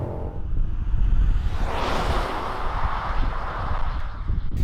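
Engine of a 2022 Genesis GV80 with its active sound design switched off, a steady low rumble that swells into a broad whooshing rise around the midpoint, then settles, close and moderately loud with no talk.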